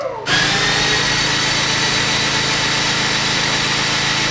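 A race car engine is cranked to build oil pressure, a loud, steady whirring drone that starts abruptly and runs on without a break, close and unchanging in pitch.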